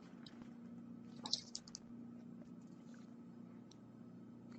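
A few soft taps on a computer keyboard entering a number, faint and close, with a couple of sharper clicks early on over a quiet room hum.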